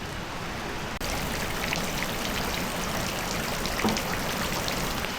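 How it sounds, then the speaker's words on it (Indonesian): Steady rain falling in a rural village, a dense even hiss of drops on surfaces, moderately loud and continuous, with no talking. "Meskipun hujan."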